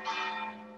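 A single bell strikes during the relaxation at the end of a hatha yoga class, a clear resonant tone that swells quickly and then rings out in a slow fading hum.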